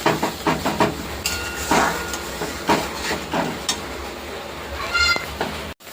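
Masala fries in oil in a pan, giving a loud, constant sizzling hiss broken by scraping and clattering strokes as it is stirred, heard up close without speech.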